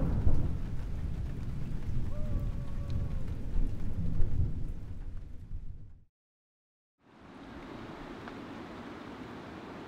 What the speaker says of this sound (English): witnessed a stunning sunset as a storm approached, and watched a thunderstorm from a distance.